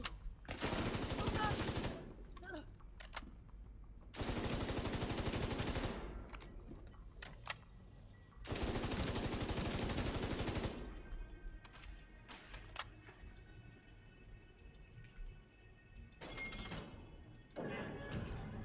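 A light machine gun fires in The Division 2, a video game, in three long, loud sustained bursts. Quieter clicks and shorter shots fill the gaps, and a brief final burst comes near the end.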